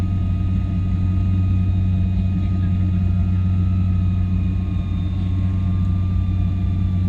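Inside the cabin of a Link Airways airliner turning on approach to land, a loud, steady engine drone and low rumble fill the space continuously, with faint tonal hums above.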